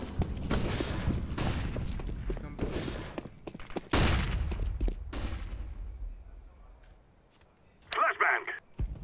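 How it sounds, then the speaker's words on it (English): A flashbang grenade goes off in the video game CS:GO among loud, close bursts of gunfire and heavy thuds that fade into quiet, followed by a brief sharp crackle, with a voice speaking over it. "I'm throwing a flashbang."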